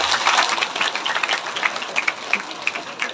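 Audience clapping at a Hindu religious satsang discourse on Amavasya, with steady broadband applause that gradually thins into scattered individual claps.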